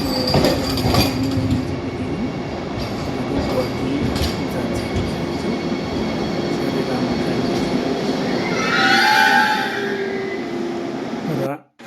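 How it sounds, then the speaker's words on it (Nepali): A Vande Bharat Express train moves through New Alipurduar station with a steady rumble of wheels on rails, rising squeals and clatter, and a person talking over it before an abrupt stop. "यो चाहिँ वन्दे भारत एक्सप्रेस"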